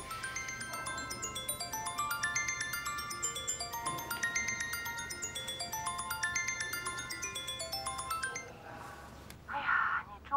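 A mobile phone rings with a repeating melodic ringtone that plays steadily for several seconds, then stops, followed by a brief rustle.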